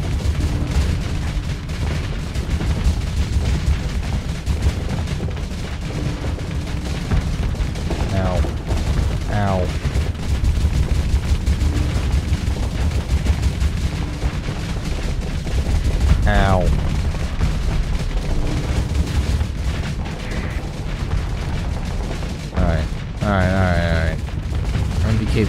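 Missiles and ship weapons fire in a Starsector space battle, a steady dense barrage of booms and bursts with repeated sweeping chirps throughout, loud and continuous with no talk.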